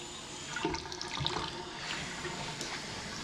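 Water runs steadily from a sink faucet in a house's other sink, turned on to check the flow and look for leaks with the gas off, a continuous close hiss lasting the whole stretch.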